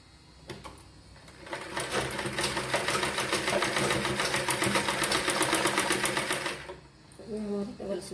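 Sewing machine running a double line of stitching on a girl's frock, a fast rattling burst that builds and holds for several seconds before stopping, with brief voices around it.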